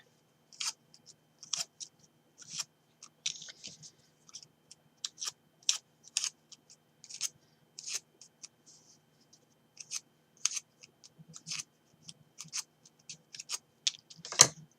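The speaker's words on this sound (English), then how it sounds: "So just take your scissors and just curl these" Quiet, scattered crisp snips and scrapes of scissors curling paper, irregular and close, with no talking.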